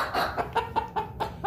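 Several backyard chickens cluck in short, repeated bursts close by, a steady rhythm of soft calls roughly every fifth of a second as they gather near the ground around scattered treats of torn dried cranberries.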